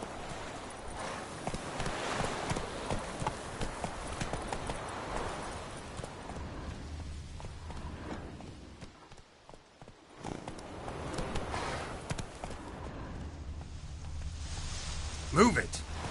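Roach the horse gallops in The Witcher 3, hooves drumming in a steady rapid clip-clop that runs the whole way, dipping briefly midway, with a voice over it.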